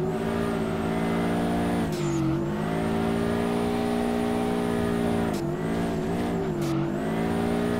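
A Subaru BRZ boxer engine in the Drift21 driving game revs steadily and loudly, with two brief dips where the revs drop and climb again, carrying on alone with no talk.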